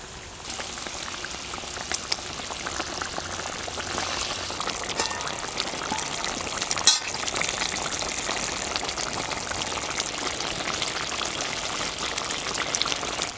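Pieces of fried tilapia go one by one into a simmering pea gravy, which bubbles and hisses softly and steadily, with a brief louder splash partway through and no speech.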